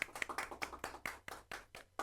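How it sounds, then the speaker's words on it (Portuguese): A small group claps at a launch event for the new WSuzuki Consultoria brand: about ten quick, slightly uneven hand claps in a loose rhythm, close and fairly soft, with no talking. "palmas a você, meu amigo"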